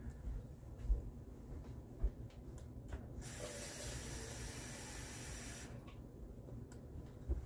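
Water runs steadily from a kitchen tap for a few seconds, a bright continuous hiss that starts abruptly and stops, with a few soft clunks around it while a dairy-free cheesy noodle sauce cooks in a pressure cooker.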